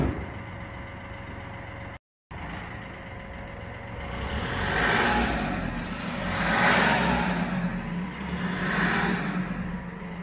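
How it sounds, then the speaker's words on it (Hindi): A Chevrolet Beat fitted with an HKS exhaust muffler revs its engine close by, rising and falling in three broad, loud swells over a steady idle after a brief cut. "कार के आप साउंड सुन ही सकते हैं।"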